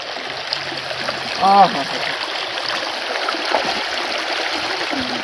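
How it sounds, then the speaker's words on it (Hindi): Icy cold water coming straight down from the mountains runs steadily as a stream in Azad Kashmir, a constant close wash with a brief splash, while people talk over it. "ये पानी जो है ना ये डायरेक्ट पहाड़ों से आ रहा है, इंतहाई ठंडा है, बर्फीला पानी है।"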